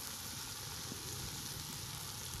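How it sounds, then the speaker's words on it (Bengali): Mutton is fried in a pan with meat masala, giving off a soft, steady sizzle that runs on evenly with no voices. "এর মধ্যে এবার একটু মিট মশলা দিয়ে আরও ভালো করে কষিয়ে নেব।"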